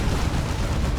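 A Demolisher Cannon shot explodes in the Dawn of War 2 video game during a Space Marines versus Imperial Guard battle, a dense, loud, rumbling blast roar that fills the whole short moment.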